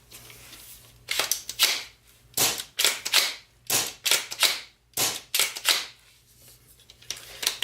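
Remington 870 replica pump-action shotgun racked over and over, each sharp double clack of the slide sliding back and snapping forward landing in a steady rhythm, loud and close with no talk.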